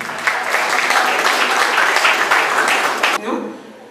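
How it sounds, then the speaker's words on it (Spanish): Dense applause at a graduation ceremony, a crowd clapping loudly and continuously for about three seconds before it cuts off abruptly into a quieter room. "Fuerte los aplausos, por favor."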